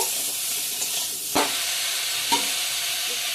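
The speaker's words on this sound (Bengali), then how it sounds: "লবণ হলে দিয়ে দিলাম দেখতেই পারলে বন্ধুরা তাকে ভালো করে ভেজে নিব" Salted cauliflower frying in a pan for a vegetarian dish, a steady close sizzling hiss broken by two brief clanks of stirring.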